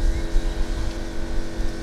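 A Volkswagen GTI with a standard exhaust rumbles nearby, a low steady engine and exhaust note with small fluctuations over a couple of seconds.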